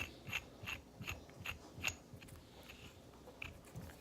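A 5/8-11 to 1/4 inch metal camera mount is screwed together by hand, giving a series of faint, evenly spaced clicks and scrapes up close, with a quiet pause near the end.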